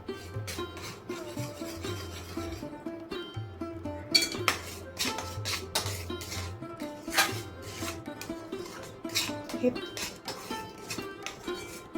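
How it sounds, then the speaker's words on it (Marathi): Milk powder peda mixture being stirred steadily in a kadhai, giving repeated scraping and rubbing strokes with occasional light clinks of the spoon against the pan, close and continuous, with a voice speaking over it. "जोपर्यंत हे मिश्रण कढईला सोडत नाही तोपर्यंत हे असंच हलवत राहायचं आहे"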